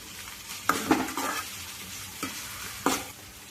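Onions fry in a hot pan, a soft continuous sizzle broken by a few sharp stirring scrapes and clatters of a spatula against the pan, close and without voices.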